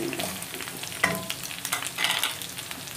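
Onion frying in a pan, a soft crackling sizzle with a few scraping stirs, close and moderately quiet, no talking.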